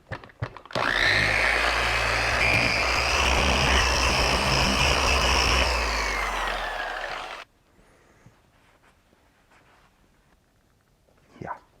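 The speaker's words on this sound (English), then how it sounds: "So I'm going to put the black pad on and I'm going to use the finishing wax and just finish out this panel just a little bit more." An electric car polisher fitted with a black finishing pad runs with wax on black car paint, a loud steady whirring drone for several seconds that winds down and stops, followed by quiet handling noises.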